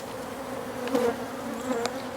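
Honey bees from a package buzzing steadily as they are installed into a Warre hive after rain, a soft continuous hum with a couple of louder swells close by.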